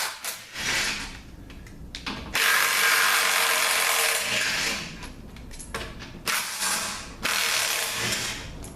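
A hand ratchet clicks in quick bursts, loosening bolts during the teardown of a GM 8L90 automatic transmission, with close, sharp pawl chatter and brief pauses between runs.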